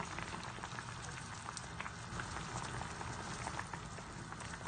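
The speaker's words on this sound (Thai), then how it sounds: "ได้ยินเสียงน้ำเดือดนะคะ" Steady bubbling and crackling of tom yum mackerel soup with mushrooms at a rolling boil in a pot, continuous and fairly close, with a faint background hum.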